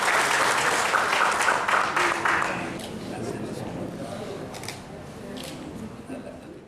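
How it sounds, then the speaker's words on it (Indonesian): Loud, dense applause fills a ceremony at the Palembang mayor's official residence during an awards event, then thins into softer scattered clapping and room murmur. "Baik, tepuk tangan yang paling meriah."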